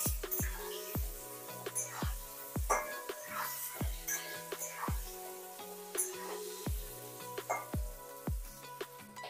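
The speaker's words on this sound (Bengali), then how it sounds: "এবার আলুটাকে খুব ভালো করে ভেজে নেব।" Boiled potatoes with turmeric and salt fry in a pan under a soft, steady sizzle, while a spatula strikes and scrapes the pan in a quick, regular rhythm of close, sharp clinks.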